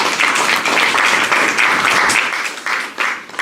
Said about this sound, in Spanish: Regálele un aplauso al Señor.